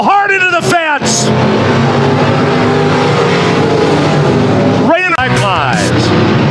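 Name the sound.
sport modified race car going hard into the fence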